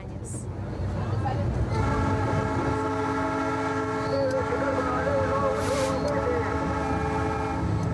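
A train rumbles steadily along the tracks, then a long, loud horn sounds over the continuous rolling noise.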